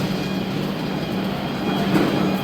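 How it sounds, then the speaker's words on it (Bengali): The Duronto Express train standing at a station platform: a steady, loud rumbling drone of the engine and carriages with a faint high whine running through it and a swell near the end. "এটাই আমাদের ট্রেন, এটাই ট্রেন।"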